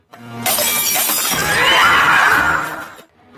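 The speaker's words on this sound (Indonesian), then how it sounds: "Sang pengusaha yang marah lalu memecahkan botol kaca ke kepala besi" A glass bottle is smashed over a man's head in a film fight scene: one loud, close crash of breaking glass that rings on with scattering shards for about three seconds, then stops abruptly.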